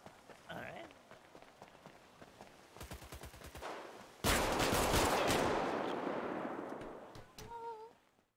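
Rapid bursts of gunfire from a GTA 5 role-play shootout: a quick string of sharp shots, then a long, loud sustained volley that tapers off, with a few more scattered pops at the end.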